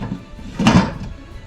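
A single dull knock of a lid settling onto a pot of salna with added water, brief and close, with quiet room noise around it.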